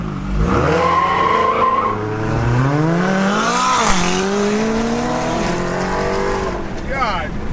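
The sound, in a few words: widebody Hellcat Charger accelerating, racing a McLaren 570S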